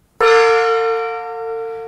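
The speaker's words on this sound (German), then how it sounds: "Wir machen es jetzt mit einem Gong." A gong used to quiet a noisy classroom is struck once, a sharp attack that rings on as a bright, sustained metallic tone and decays slowly, heard alone.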